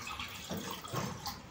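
Water being poured into a glass to be used with a Kuvings juicer, a short close splashing trickle that swells briefly, with no talk.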